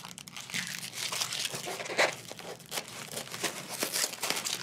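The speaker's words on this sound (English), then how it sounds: "Let me go ahead and cut that band." Packaging band around styrofoam being cut and pulled away, a close crinkling, tearing rustle with sharp crunchy snaps, continuous over a few seconds with no talk.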